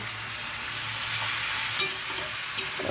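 Chicken being fried and stirred in a pan for chicken kosha, giving a constant dense sizzle with a couple of brief spatula scrapes, close and without voices.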